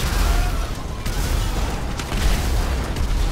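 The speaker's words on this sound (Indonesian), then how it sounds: "Terlalu banyak ledakan, tolong." A dense, continuous barrage of booming explosions from GTA 5 rumbles loudly throughout, with sharper bursts popping out on top.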